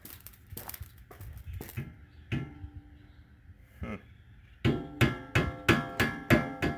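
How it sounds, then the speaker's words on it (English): A series of sharp dead blow hammer taps fitting a Can-Am Defender front bumper, scattered at first, then six strong evenly spaced blows close by, with quiet pauses between. "Get my dead blow hammer."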